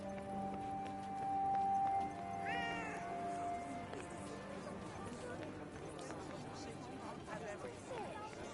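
A cat meows in the Forspoken video game, a rising meow heard among game music and ambient sounds, with footsteps and a speaking voice also present.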